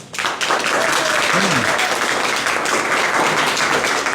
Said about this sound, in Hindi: एक बार पुनः आप लोग अपने टीचर्स के लिए, अपने माता पिता के लिए एक बार ताली बजा दें